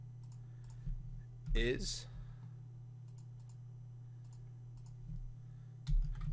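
Computer keyboard typing, a few scattered soft key clicks against a steady low hum, with a short burst of speech partway through.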